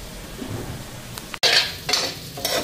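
Food frying in a pan at home, a steady low sizzle with scraping and stirring clatter, a sharp click then brighter hissing bursts as the cooking is worked.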